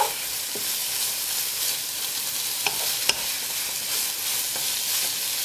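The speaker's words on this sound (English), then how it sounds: "And get them stirred into the lamb." Spices are stirred into lamb frying for a jalfrezi, giving a continuous bright sizzle with a few soft scrapes and taps of the spoon against the pan, close and clear, with no talking.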